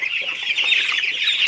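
Two-week-old broiler chicks clucking and peeping as a dense, continuous flock chorus, steady and fairly loud, with high chirps overlapping throughout and no pauses.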